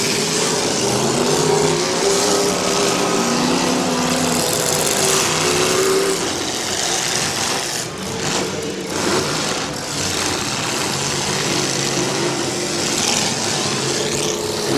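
A demolition derby car engine revving roughly and stuttering at a county derby, a loud continuous drone with uneven pitch and brief dips amid general arena noise.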